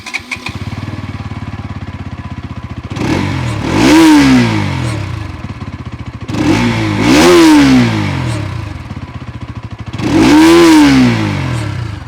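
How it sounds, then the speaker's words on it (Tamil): A Bajaj Pulsar NS200 naked sport bike idles with a burbling exhaust, then is revved hard three times, each rev rising and falling back to idle, loud and close with no talk. "இப்போ இந்த பைக்கோட எக்ஸாஸ்ட் நோட் எப்படி இருக்குது அப்படின்னு நம்ம பார்க்கலாம்."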